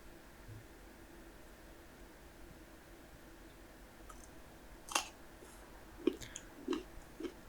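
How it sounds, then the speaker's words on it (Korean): Raw sweet kabocha pumpkin, dipped in sauce, is bitten and chewed with a few quiet crisp crunches near the end, after several seconds of faint background hiss. "이렇게 아삭아삭 씹히는 게 정말 맛있거든요"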